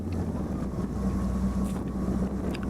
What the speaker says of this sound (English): The wind blowing us right around.